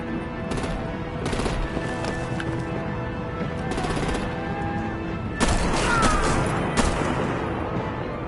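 Gunfire and artillery erupt in the Batman The Enemy Within video game: scattered sharp shots and heavier booming bursts crack over a constant low battle din, with a louder cluster of blasts near the end.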